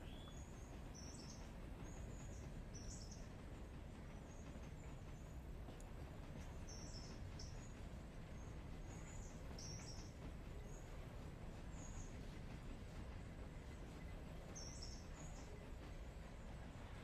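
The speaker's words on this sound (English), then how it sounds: "And basically the train is just rolling." A log-laden freight train rolls downhill in Railroader with a faint, steady low rumble of wheels on track, alongside repeated high squeals or chirps that drift in and out over the continuous hum.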